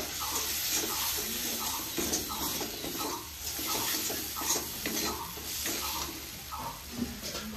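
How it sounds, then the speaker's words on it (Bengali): Spice paste of red chilli powder, salt and turmeric being stir-fried in a pan for a Bengali rohu fish curry, heard as a steady sizzle with rhythmic scraping stirs repeating throughout, close and alone. "মশলাটা ভালো করে কষে নেব।"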